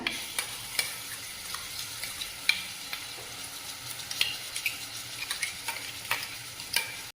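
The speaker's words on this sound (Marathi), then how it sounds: "हे चांगलं परतून घ्यायचं त्यानंतर आपण हे तयार केलेलं जे वाटण आहे ते त्यामध्ये टाकून घेऊया" A ground spice paste being sautéed in a pan for horse gram dal amti, with steady stirring scrapes and a soft continuous sizzle, close and moderately loud, with no voices.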